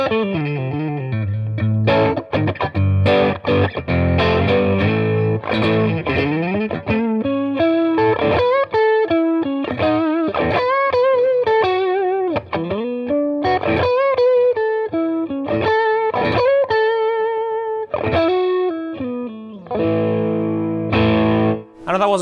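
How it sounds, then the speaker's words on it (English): An electric guitar played through an Ibanez TS-9 light overdrive pedal rings out in a lively blues-style lead run, with mildly gritty sustained notes and bends, loud and close throughout. "I've got a TS-9 because I couldn't get one. So we get that light overdrive."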